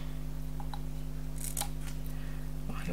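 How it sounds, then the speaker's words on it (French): Scissors cut through paper for a handmade scrapbooking photo holder, giving a few short crisp snips near the mic over a steady low hum, with no talk. "Ensuite, je viens couper."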